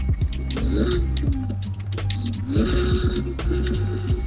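Engine note of a modified Porsche RWB in the racing game NFS Heat, a buzzing idle with two sharp revving rises and falls, loud and close with no talk.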